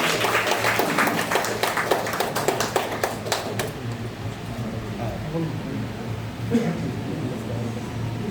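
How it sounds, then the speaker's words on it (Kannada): An audience claps in a burst of applause at the inauguration of a computer training and tuition academy. The clapping fades after about four seconds into quieter room noise with faint voices. "ಚಪ್ಪಾಳೆ."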